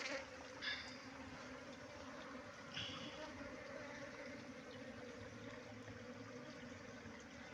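Honeybees buzz close by while someone searches for a wild hive, a faint, steady hum with a few brief louder passes as single bees fly near.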